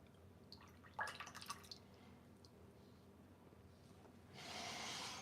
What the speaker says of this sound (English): So I'm trying to get that water wrung out pretty nice.